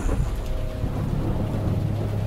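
Rain falls steadily on an empty garden as a radio drama effect, a dense, loud, continuous hiss with a low rumbling undertone throughout.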